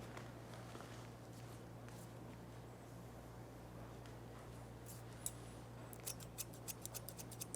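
Hair is cut with scissors during an undercut haircut, under a low steady hum. A few soft snips come early, then a quick run of crisp blade clicks near the end. No speech.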